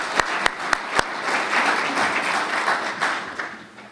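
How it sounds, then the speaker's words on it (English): Audience at a fire department awards and citations ceremony breaks into applause, a few sharp individual claps first, then a dense, sustained round of clapping filling the room, fairly loud and close. "since they're not here, we'll clap for them"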